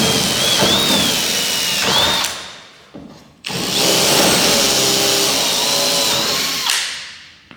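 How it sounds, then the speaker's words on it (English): A power drill bores holes through a CSS 1.3 tent to mount Tier One 100/105 series roof rails, whining loudly and close in two sustained runs with a brief pause and spin-down between them. "make sure you're drilling everything nice"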